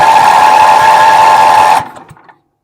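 A Wheel Horse 308-8 tractor engine runs with a loud, steady mechanical drone, then abruptly cuts out and rattles into silence.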